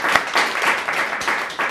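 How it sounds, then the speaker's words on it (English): Clapping from a small audience at a cooking demonstration, a short burst of loose, uneven claps with a few distinct sharp hits. "You can clap."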